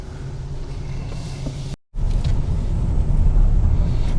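A 2024 Hyundai Santa Fe in sport mode drives over snowy roads, giving a steady low rumble of engine and road noise with a brief dropout, then continuing loud and constant.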